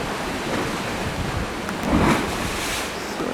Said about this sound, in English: And the waves come in.